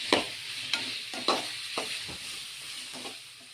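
Onions with rock salt sautéing in a pan, with a constant bright sizzle and a regular series of scraping stir strokes roughly every half second, close and clear.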